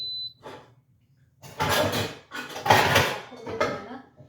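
A wide, shallow metal kadai is handled in a kitchen, giving a few close clanks and scrapes in separate bursts.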